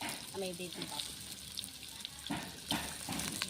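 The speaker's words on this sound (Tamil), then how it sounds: "வெங்காயம் நல்லா வதங்கிடட்டும்" Onions and green chillies frying in oil with a soft, steady sizzle and occasional stirring, heard under intermittent speech.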